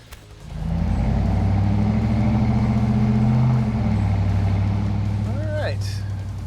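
A car pulls away and drives to bed in freshly fitted brake pads against the rotors, a steady low engine drone and road rumble building and holding close, with faint speech and a brief squeal near the end.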